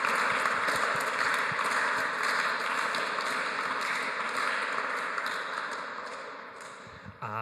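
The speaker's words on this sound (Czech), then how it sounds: "Tak poprosím potlesk našim hostům." An audience in a church hall applauds guests at a scout talk on values, with dense, steady clapping close by that holds for several seconds and then slowly fades, and no talking over it.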